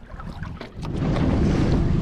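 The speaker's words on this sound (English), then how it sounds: "The wind is picked up." Wind buffets the microphone over choppy lake water on a trout-trolling boat, a loud rushing roar with low rumble that swells and stays heavy through the second half.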